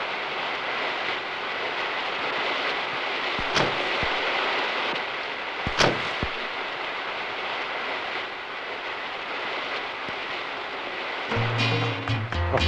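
Steady broadband rain pours throughout, loud and continuous, with a few sharp knocks and a brief rumbling disturbance near the end; no voices are heard.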